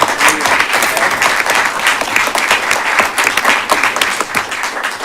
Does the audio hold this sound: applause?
yes